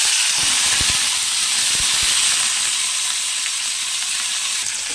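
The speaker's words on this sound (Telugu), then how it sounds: "ఇలా చక్కగా పచ్చిమిర్చిని అయితే చక్కగా దూరగా వేయించుకోవాలి" Homegrown green chillies fry in hot oil in a pan, made for cabbage chutney, giving a loud, continuous close-up sizzle with a few soft low knocks near the start.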